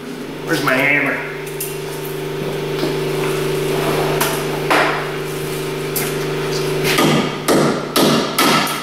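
Hammer blows on a ball joint of a Ford Explorer Sport Trac during suspension repair in a garage, a steady engine-like hum underneath and a quick run of sharp metallic strikes near the end.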